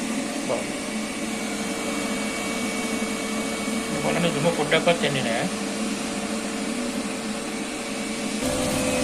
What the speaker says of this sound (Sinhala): ෆෑන් එක වැඩ කරනවා